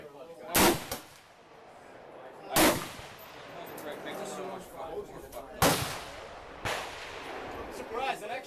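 Four sharp, loud rifle shots from a K31 at an outdoor gun range, spaced a couple of seconds apart, each with a brief echoing tail, with faint chatter in between.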